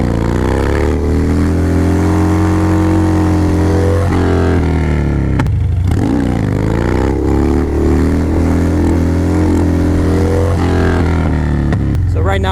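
A Harley motorcycle on Shinko 777 tires rumbles loud and close during wheelie practice, its engine droning steadily with uneven throttle swells, a sharp dip around the middle before it climbs and revs again.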